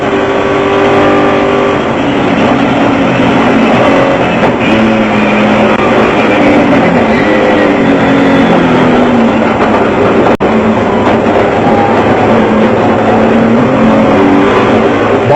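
Off-road race vehicles, a Jeep Cherokee and a Nissan Hardbody, roar past at a 2001 Lichtenburg off-road race in South Africa, their engines loud, continuous and close throughout with shifting revs and no voices.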